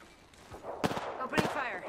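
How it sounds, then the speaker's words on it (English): Gunfire in the video game Apex Legends: two sharp, loud bursts about half a second apart, each with a short crackling tail, over a low background of game noise and faint voice. "Opening fire."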